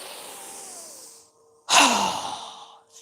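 Two forceful breaths through the mouth during a yoga breathing exercise, a softer airy breath followed by a pause and then a sharp, strong exhale, close and alone.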